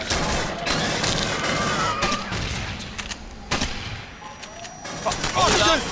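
Rapid bursts of automatic sentry gun fire crackle through the clip, mixed with loud explosions in the video game Aliens: Colonial Marines while players talk over the action.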